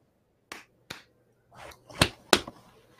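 Five separate sharp hand claps from a lone person indoors, two isolated claps followed by a pause and then three closer, louder ones in quick succession, with no talking.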